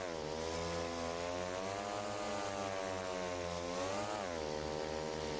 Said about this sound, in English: I'm yelling over the sound of the motorbike. It's really loud. It goes brum brum.